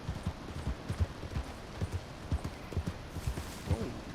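Horse hooves clip-clop over dark, dangerous-seeming terrain in the video game Red Dead Redemption 2, a quick uneven patter of steps at moderate distance, fairly quiet, with no talking.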